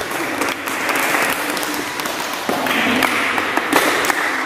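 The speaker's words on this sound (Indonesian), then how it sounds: "Tepuk tangan untuk kalian semua" Audience at a youth cadre forum in a village hall clapping, loud sustained applause with a few sharper claps and a surge in intensity partway through.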